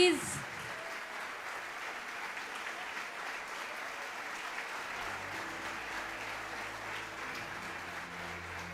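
Applause from an auditorium audience at an international conference awards moment, a steady broadband clapping wash holding at moderate level throughout, with a low murmur and faint hum entering partway through.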